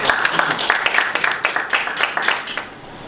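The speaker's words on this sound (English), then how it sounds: "Give me another big round of applause." Audience applause at a Toastmasters table topics evaluation meeting, a steady patter of many hands clapping at close range that thins out toward the end.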